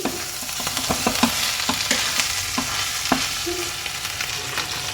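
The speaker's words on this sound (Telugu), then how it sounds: "మనం మటన్ అయితే ఒక వన్ నుంచి టూ మినిట్స్ అయితే ఫ్రై చేసుకుందాం" Mutton pieces frying in a pan with spices, a steady close sizzle broken by repeated scraping knocks of a spoon stirring the meat.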